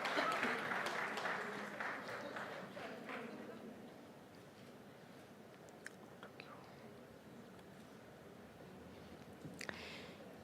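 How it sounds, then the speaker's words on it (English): Audience at a real estate conclave applauding to welcome a government minister, clapping loud at first and then fading to sparse scattered claps, with faint talk underneath. "may we have a huge round of applause to welcome the Honorable Union Minister for Housing and Urban"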